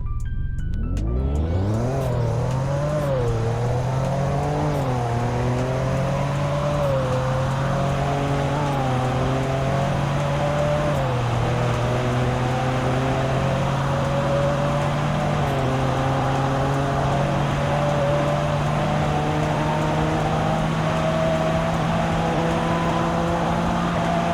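A sports car engine revs up hard from a standstill without launch control, pitch climbing through several gear changes, loud and close, then holding a steady high drone.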